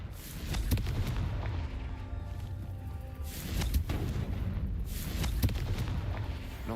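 Confringo blasting spell explosions in the video game Hogwarts Legacy, two heavy booming blasts a few seconds apart over a steady rumbling game background.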